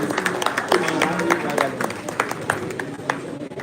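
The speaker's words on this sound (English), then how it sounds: "a resounding round of applause for Achime Arinze" Seminar audience at a Rotary district event clapping for a speaker, a moderate, scattered round of individual claps with crowd murmur and some voices underneath.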